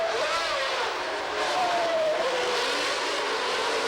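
A 1992 Formula 1 race car passes on the track, with a high engine whine that sweeps down in pitch as it goes by, rising over a constant roar of other engines and no voices.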